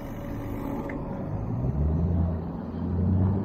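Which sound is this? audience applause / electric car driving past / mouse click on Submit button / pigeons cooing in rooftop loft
electric car driving past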